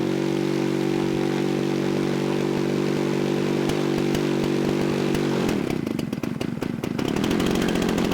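A petrol model-aircraft engine with a fairly coarse propeller runs steadily and loudly, droning close by, then its pitch shifts and it settles into a rougher, choppier idle near the end.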